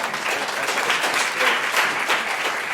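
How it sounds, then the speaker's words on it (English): Steady, dense applause from a crowd at a community leaders' peace panel, continuous and fairly loud throughout with no break. "I feel like clapping it up."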